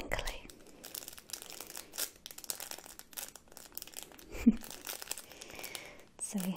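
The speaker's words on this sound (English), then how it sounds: "is this pirate by Nubby, I believe it's called, but he is very crinkly." A Nubby pirate baby toy with teething rings on its feet is crinkled and handled up close, giving soft, irregular crackling rustles throughout with a few sharper crunches.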